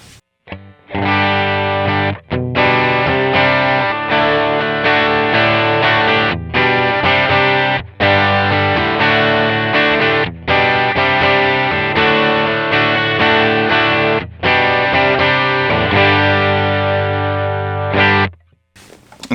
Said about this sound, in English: patch I'm using is the T-Maw overdrive pedal, and it sounds like this.